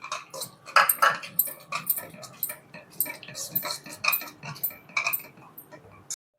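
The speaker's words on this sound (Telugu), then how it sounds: "ఇప్పుడు యాలకుల పౌడర్ వేసుకొని మిక్స్ చేసుకోవాలి." A spoon stirs cardamom powder into semolina kesari in a pan, with a close, steady run of clinking, scraping metal strokes that continues for several seconds and then stops abruptly, with no talk.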